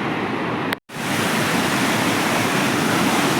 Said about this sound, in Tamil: சின்ன வாட்டர் ஃபால்ஸ் விழுகுது